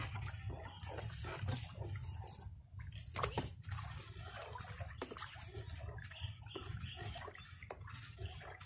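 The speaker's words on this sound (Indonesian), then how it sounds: "air ini akan kita manfaatkan untuk menyiram bahan-bahan tadi" Water poured and splashing over a mix of raw rice husk and sawdust growing media, a steady close wash of trickling and sloshing with occasional wet squishes and thuds, no voices.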